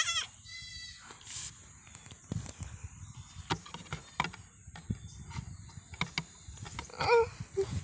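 A goat bleating in short, high cries scattered among sharp knocks and rustling nearby, with a person's voice briefly heard.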